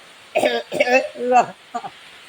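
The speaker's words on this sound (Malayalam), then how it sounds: "വെറുതെ കള്ള ചുമ ചുമക്കാം" A person fakes a cough, producing several short, voiced cough-like bursts close to the listener, with a final softer one after a pause.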